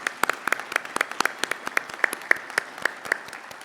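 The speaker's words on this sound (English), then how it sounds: "All a round of applause" Audience at a federal election candidates' forum in Airdrie applauding the organizers and city staff: moderate, fairly sparse clapping with distinct individual claps in a quick, uneven patter, heard alone without talk.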